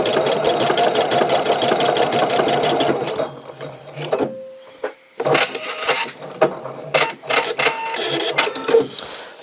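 Sewing machine stitching a programmed buttonhole, a fast steady mechanical whir for a few seconds, then pauses and shorter bursts of stitching with clicks, close and loud.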